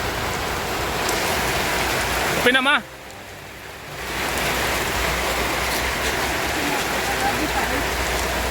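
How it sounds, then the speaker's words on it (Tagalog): Heavy rain with gusting wind pours down steadily in Albay, a dense hiss that drops away for about a second before returning at full strength, with a voice speaking briefly over it. "Malakas ang ulan dito sa Albay."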